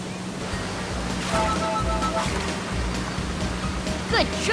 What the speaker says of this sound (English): It's a wild water slide!